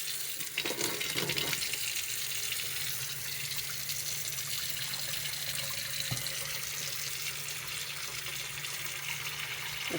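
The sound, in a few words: hands being washed under a running tap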